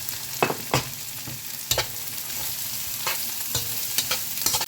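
Garlic and chili sizzle in hot oil, with a steady frying crackle broken by several sharp scrapes and clacks of stirring, close and clear with no talking.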